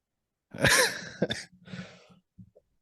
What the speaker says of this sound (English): I'm still trying to get over this cough